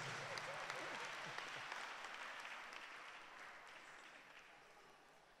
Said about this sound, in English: Can you clap hands for them?